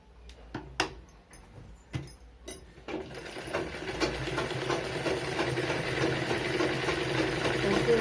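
A sewing machine stitches fabric, starting with a few separate clacks and thumps before settling into a continuous whirring run of the needle and motor that grows steadily louder toward the end, close by.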